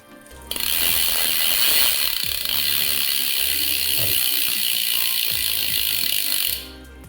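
Brompton folding bike with an Xshifter electronic shifter: a pedal is turned and the drivetrain gives a loud, continuous close mechanical ratcheting whir for about six seconds, with gear clicks, then stops abruptly.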